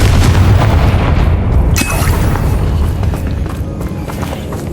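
A heavy explosive boom from the Confringo spell in the Hogwarts Legacy video game, a loud dense blast with a rumbling tail amid continuous combat noise.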